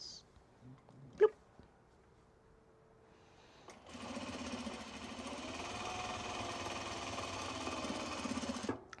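A sewing machine stitches seam pockets on a Japanese fabric bag, starting after a few seconds of near silence and a sharp click, then running steadily and fairly close at an even buzz until the end.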